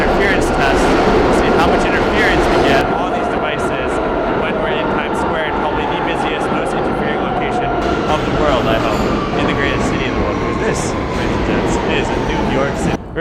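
Subway trains roll in and out of a busy Times Square station in New York, a loud continuous rumble and screech with rising and falling tones filling the whole stretch, voices and station bustle mixed in.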